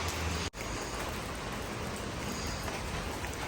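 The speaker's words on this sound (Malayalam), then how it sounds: "മഴ ചെറുതായിട്ടൊന്ന് കുറഞ്ഞിട്ടുണ്ട്" Steady rain falls continuously as a dense, even wash of droplets, with one momentary dropout near the start and no talking.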